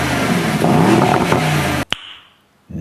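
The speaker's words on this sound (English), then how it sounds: "Brabus exhaust, sounds good." A Mercedes-AMG E63s V8 barks loudly through a Brabus exhaust, a dense roar that cuts off sharply, followed by a brief crackle and near silence before the engine starts to rise again.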